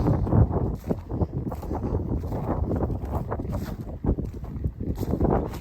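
Steady wind gusting across an open soybean field in Ukraine, a close rough rumble of air buffeting the microphone with uneven surges and no talking.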